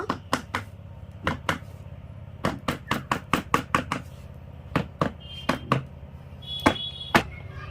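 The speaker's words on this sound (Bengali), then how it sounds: "মশলাটা আমি একটু করে এইভাবে ঠুকে নেব" Spices pounded by hand for a grape sandesh sweet: about two dozen sharp, close knocks in quick irregular bursts with short pauses between them, and no talking.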